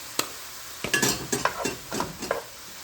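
Mushrooms and chicken cook in a pan, with a utensil stirring and scraping in a series of quick clinks and scrapes over a faint sizzle, close and moderately loud.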